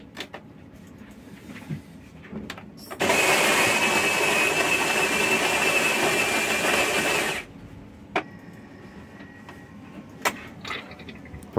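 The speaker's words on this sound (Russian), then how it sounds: "она за первый помол только наполнит кофемолку и совсем немножко скинет кофе в заварочное устройство" Bosch Benvenuto Classic TCA 5201 coffee machine grinding beans, a loud, steady mechanical whir with a high whine lasting about four seconds, bracketed by quieter clicks and clunks.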